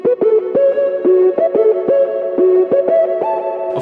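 A filtered synth melody from a lofi happy hardcore track plays alone, loud and steady, in a bouncy line of short stepped notes over a pulsing rhythm.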